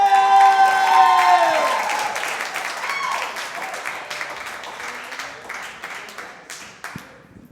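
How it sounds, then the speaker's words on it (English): Audience at Gotham Comedy Club in NYC applauding a comedian coming to the stage, dense clapping and some cheering that swells, then gradually thins out, with a musical sting at the start. "Please give a big applause to Dustin"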